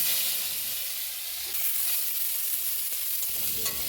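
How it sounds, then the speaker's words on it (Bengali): Chopped onions sizzle steadily in hot oil left from frying potatoes for a khichuri, with a soft scrape of stirring running through the continuous hiss. "ওই তেলেই কেটে রাখা পেঁয়াজগুলো দিয়ে হালকা করে নেড়ে চেড়ে নিলাম"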